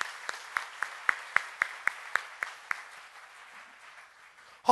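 A church congregation claps in unison, about a dozen sharp rhythmic beats at a steady pace that gradually soften and trail off, heard somewhat distantly in a reverberant hall.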